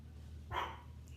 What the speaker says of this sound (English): Barking at the workers.